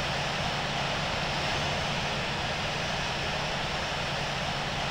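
Boeing 747-8 engines at taxi power in the Infinite Flight game, heard as a steady, loud, broadband jet roar with a low rumble, continuous and unchanging without voices.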